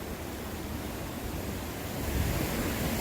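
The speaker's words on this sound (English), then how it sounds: "There's a little waterfall right there." A small waterfall in a forest stream, a steady close rush of falling water, broad and continuous, growing slightly louder toward the end.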